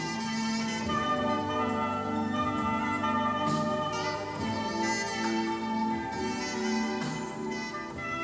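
Dance music as heard with normal hearing plays steadily and clearly, with sustained tones and a full melodic texture throughout and no talking.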